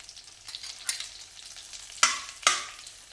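Kharda masala is stirred and fried with stuffed brinjals in a pan, with a quiet sizzle and a few soft utensil scrapes, then two sharper louder scrapes near the end.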